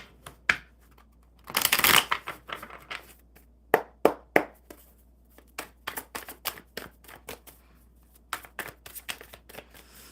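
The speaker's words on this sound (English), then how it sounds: "One more shuffle." Playing cards shuffled by hand during a casual card game, one strong riffle followed by many quick soft taps and flicks, close and quiet.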